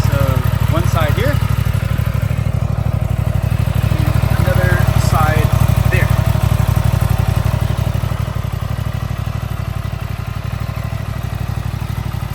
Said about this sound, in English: It's going to be a cold start. It doesn't sound that bad, does it, guys?